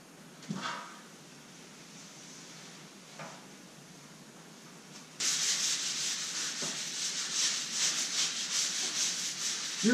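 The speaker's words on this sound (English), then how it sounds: "But yet the grit of the sandpaper still leaves enough bite" Sandpaper rubs over truck paint during a DIY repaint of a Mack truck. Faint scattered scuffs give way to a louder, steady rasping scrub that continues to the end.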